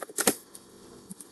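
Computer keyboard typing while entering a command to check a PostgreSQL database service: a quick cluster of sharp, close clicks at the start, then a few sparse, separate taps.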